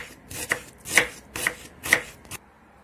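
Knife chopping an onion on a board while preparing vegetable tempura, with four distinct crisp cuts at an even, steady rhythm, close and moderately loud, followed by a softer final stroke and quiet.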